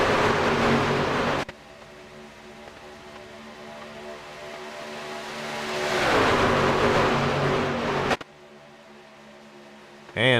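Race truck engines drone at Daytona in a racing sim game, a sustained loud roar that swells as the pack passes, then drops sharply twice as the sound cuts away.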